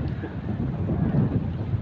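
Cold wind sweeps across a harbour at Vesvi village in Mandangad, buffeting the microphone with a steady, low rumbling roar that lasts the whole moment with no voices.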